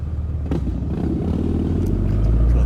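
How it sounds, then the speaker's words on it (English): A Harley-Davidson motorcycle rumbles close by with a deep, throbbing low engine note and some clattery texture, holding steady and growing slightly louder. "the Harley made a noise"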